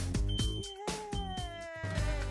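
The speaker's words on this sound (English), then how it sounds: "And when the smoke detector sounds" A smoke detector alarm sounds indoors during hearing-dog training, giving a steady high electronic tone with pulsing, harmonic-rich tones and short breaks throughout.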